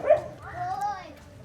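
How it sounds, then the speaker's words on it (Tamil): A dog gives a short, close bow-wow bark at a rural home where someone stands by a barbed-wire fence, followed by a drawn-out whining yelp, with people talking over it. "நாய் நிற்கிதோ அக்கா"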